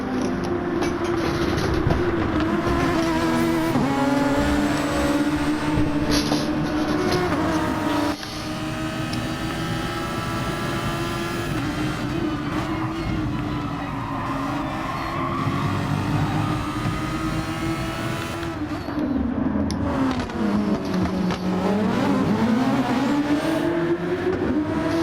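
Race cars in a sim racing game, heard as a steady, loud engine drone with gear-shift dips and rising and falling revs as two cars battle closely. The sound runs continuously with no voices.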